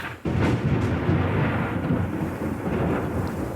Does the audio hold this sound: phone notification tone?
no